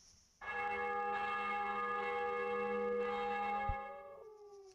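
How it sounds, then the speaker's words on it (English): A church bell in the PS1 video game Juggernaut gives one loud, sustained toll with a shimmering, ringing decay that fades out over a few seconds, heard alone. "Church bell?"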